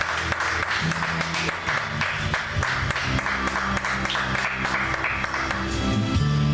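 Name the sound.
congregation applause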